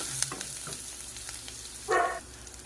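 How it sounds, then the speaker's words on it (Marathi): Tempering of garlic, curry leaves, chilli and cumin for kadhi sizzling in hot oil, a close continuous fry with light stirring taps and a short louder crackling swell near the end. "लगेच आपल्याला फोडणी करायची"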